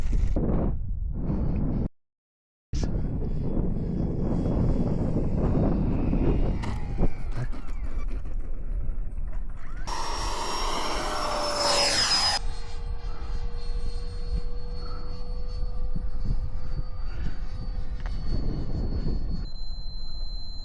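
Radio-controlled model airplanes, a Freewing F-22A Raptor 70mm EDF jet and an Eflite P39, fly overhead in a steady loud whoosh and engine drone, with a brief dropout and a rising high whine partway through.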